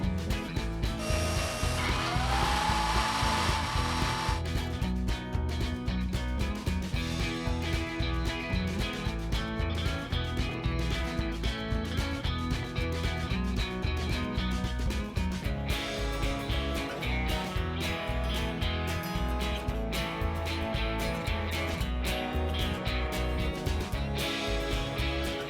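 Router cutting a radius along a wooden speargun stock, a loud continuous mechanical whine and rattle with dense chattering texture that shifts in pitch partway through, with no voices.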